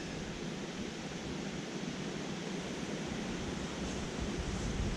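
Strong wind gusting beside the River Yeo near Codshead Bridge, a steady, loud broadband roar buffeting the microphone without a break and with no voices.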